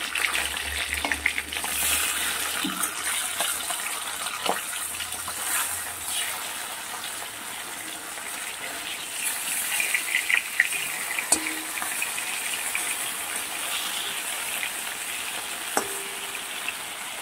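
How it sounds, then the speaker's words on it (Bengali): Rohu fish pieces fry in oil with a steady, bright sizzling hiss, scattered pops and a few utensil clicks as they are turned, with no speech over the continuous frying. "মাছগুলোকে আমি খুব ভালো করে ভেজে নেবো।"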